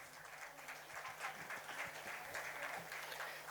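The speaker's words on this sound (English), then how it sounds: "let me give a big round of applause for all our sponsors" An audience applauds sponsors at a business conclave in a hall, a steady spread of clapping heard faintly from a distance.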